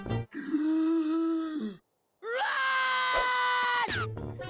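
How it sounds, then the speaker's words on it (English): Cuphead, the animated cup-headed cartoon character from The Cuphead Show, screams loudly in two long sustained cries split by a short silence, ending in a sharp falling break. "I like this little animated part where he screams."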